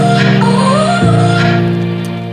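A pitched, pitch-bending vocal loop from a song, a sliding high chopped voice over a steady low tone, heard alone and loud, with one downward-shifting swoop about midway before the phrase fades slightly.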